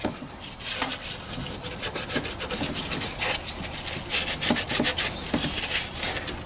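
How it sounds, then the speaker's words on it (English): Sandpaper is rubbed across the pump mounting surface during a 2007 Toyota Prius water pump replacement, producing quick rhythmic scratchy strokes, close and fairly quiet. "So I have a bit of sandpaper here. I'm just gonna give the surface a little rub."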